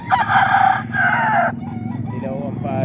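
A white chocolate straight-comb rooster about seven months old crows loudly and close by for roughly one and a half seconds, with the call breaking into two long pulses. Softer clucking and fowl sounds follow.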